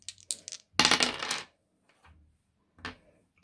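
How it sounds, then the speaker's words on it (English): Dice rolled onto a hard surface: a few light clicks, then a dense rattling tumble lasting under a second, and a couple of small settling clacks afterward, close and alone. "I'm going to roll my dice"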